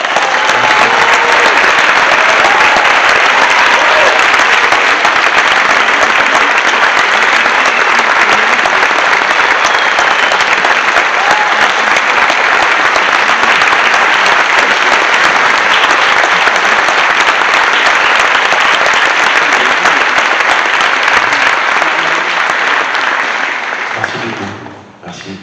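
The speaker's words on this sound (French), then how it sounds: "un tonnerre d'applaudissements pour Reda Kadeb" A loud, steady wall of audience applause greets actor Reda Kateb at a film event, holding at full strength for about twenty-four seconds before tapering off abruptly at the end.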